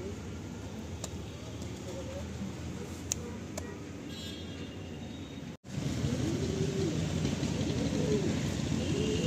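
Madrasi pigeons coo low and steadily inside a loft for sale, a soft continuous murmur under faint background noise, with a brief dropout midway.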